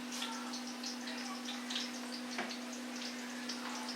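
Indian taco fry bread frying in hot oil, a steady close sizzle with fine crackling bubbles and a constant background hum throughout.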